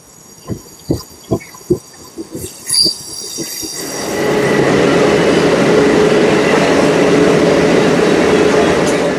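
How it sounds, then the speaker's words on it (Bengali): A Jaleswar–Puri local train departs platform 1 at Balasore station, rumbling into steady, loud motion, its continuous roar and clatter building and holding after a few sharp knocks and thumps at the start. "বালেশ্বরে 1 নম্বর প্ল্যাটফর্ম থেকে ছেড়ে বেরোচ্ছে আমাদের আজ জলেশ্বর পুরী লোকাল।"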